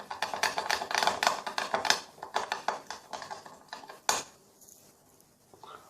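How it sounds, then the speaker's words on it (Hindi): Chicken mixed in a bowl with salt and red chili, a spoon clattering quickly and repeatedly against the dish for a few seconds, then a single knock and a quieter stretch. "मैं इसको अच्छी तरह से मिक्स कर लूँगा"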